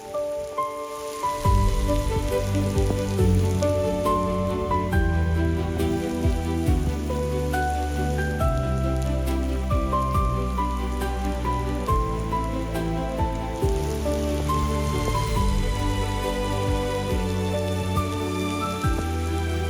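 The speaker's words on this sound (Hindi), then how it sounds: "देखते ही देखते तूफानी बारिश शुरू हो गई" Heavy storm rain pounds a road near Trimbakeshwar, Nashik, in a dense, continuous roar with scattered louder drops, steady and close for the whole stretch.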